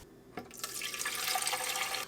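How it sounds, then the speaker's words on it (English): Tap water gushes from a faucet after a brief click, a steady close hiss of running water that builds and holds for about two seconds, with no voices. "Now we're just using straight tap water."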